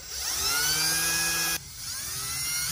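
A power drill bores a hole through a plastic Molle panel, its whine rising and holding steady, then cutting off abruptly before a second, softer spin-up.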